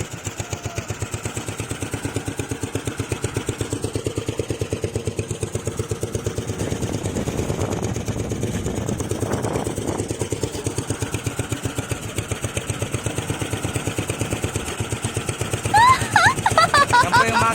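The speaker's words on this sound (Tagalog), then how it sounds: "makina namin, bridge 16. Bulok na, kailangan na palitan." An old, worn boat engine runs nearby with a fast, steady mechanical chugging that holds throughout, while voices talk faintly underneath.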